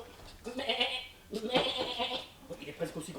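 A person's voice imitates a sheep with wavering bleats, two or three drawn-out 'baa' calls in quick succession, close and fairly quiet.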